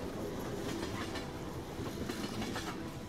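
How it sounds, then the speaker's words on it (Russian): Train rolling along rails in the video game Get Even, a steady continuous rumble with faint rhythmic clatter, loud and close throughout, with no speech. "это состав"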